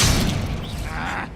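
Incendio fire spell cast in Hogwarts Legacy, a loud sustained fiery whoosh and burst with rumbling low crackle filling the whole moment, no talk over it.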